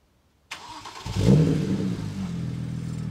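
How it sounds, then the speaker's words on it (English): A BMW 335i engine cranks briefly on a cold start and catches, revving up loudly before settling into a steady, smooth idle close by. "Let's get a little cold start, see if it still works."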